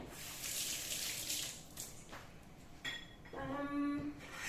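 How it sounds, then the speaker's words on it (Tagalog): Running tap water splashes over hands being washed in a home kitchen sink, a steady close-up gush with shifting splashes and a brief rising filling tone near the end. "Hugas muna tayo ng kamay."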